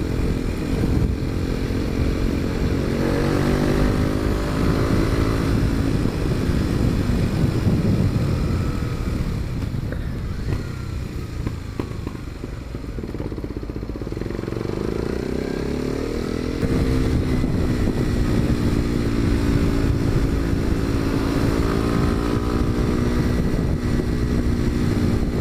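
A Kawasaki Z125 motorcycle fitted with an Arrow exhaust is ridden continuously, its engine buzzing loud and close, pitch climbing and falling through gear changes, with a brief easing off mid-ride before it pulls again.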